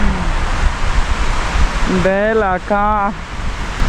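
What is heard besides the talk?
strong wind blowing at the seashore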